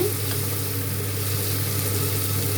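Potato and brinjal curry fries in a pan, a steady even sizzle under a low continuous hum, unbroken and fairly loud with nobody speaking.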